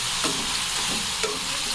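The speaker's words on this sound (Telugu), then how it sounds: "కొంచెం ఆయిల్ వేసుకోగానే ఈ మ్యాగీ అనేది ఆయిల్లో వేసేసుకుందాం." Maggi noodles frying in a little oil while being stirred, giving a steady, loud, close sizzle with soft scraping strokes from the stirring, no voices.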